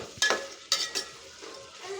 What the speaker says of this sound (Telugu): ఒక 2-3 మినిట్స్ మనము మూత పెట్టేసి మంచిగా ఆయిల్లో ఫ్రై అవ్వనివ్వాలి అన్నమాట